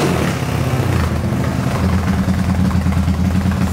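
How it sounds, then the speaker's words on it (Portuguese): A Honda Today motorcycle with its engine enlarged to 371cc runs loud and close in a steady, throaty drone, holding a rough rumble throughout without clear rev peaks. "eu vou acelerar esse motor aqui agora"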